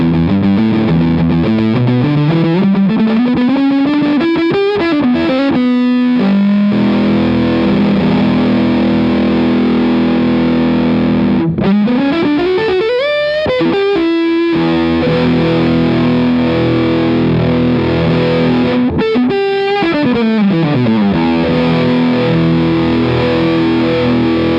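Heavily distorted electric guitar through a Crazy Tube Circuits Motherload RAT and Muff pedal, loud sustained notes and bending slides in repeated phrases with brief breaks, no talking.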